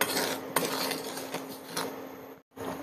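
Semolina halwa with sugar being stirred in a pan, a spoon scraping and clinking against the metal in steady strokes, close and fairly quiet, with a brief pause near the end.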